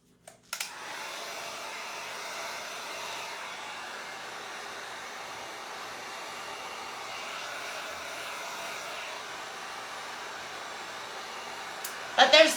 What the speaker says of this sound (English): hopefully you can hear me over this heat gun